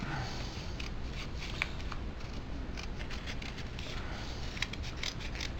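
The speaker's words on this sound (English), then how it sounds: "Make sure things don't slide around too much while you cut them." Scissors cutting reinforcing pieces for a 12 inch model rocket kit, a series of close, crisp snips and rustling paper at an uneven pace, fairly quiet.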